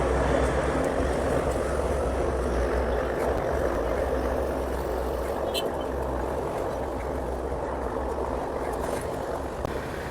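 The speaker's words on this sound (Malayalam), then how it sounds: "അതേ സമയത്ത് അപ്പുറത്തൂടെ പോകുന്ന വലിയ കപ്പൽ ഭയങ്കര സൗണ്ടാണ് കേട്ടോ." A large ship passes nearby at Fort Kochi, its engine a loud, steady low rumble and drone lasting throughout, with someone talking over it.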